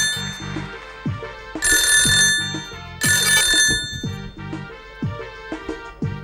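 A telephone rings loudly and alone in repeated bursts, a bright metallic bell trilling in short pulses with brief pauses between them.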